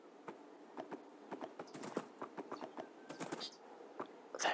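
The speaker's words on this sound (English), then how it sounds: "let me get on my horse" Horse hooves clip-clopping in the modded Minecraft game, a quick irregular run of light knocking steps, fairly faint and steady, with a short scuffle at the end.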